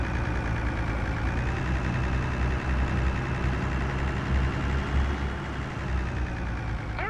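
An old tractor engine idles in Farming Simulator 2025, a steady low rumbling drone with a continuous mechanical hum, even and unbroken with no voices.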